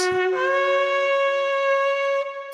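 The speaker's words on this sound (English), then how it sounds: "That's the sound of a chauffar blowing." A single long shofar (ram's horn) blast, a bright, steady, buzzy tone held for about two seconds before cutting off.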